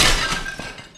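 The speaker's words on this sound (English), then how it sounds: "smashed through the roof of the house, landing on the second floor, in a hallway" Sound effect of a body smashing through a house roof into a second-floor hallway, with plaster and roof tiles raining down: a loud breaking crash with glassy shattering and thuds that fade within a second.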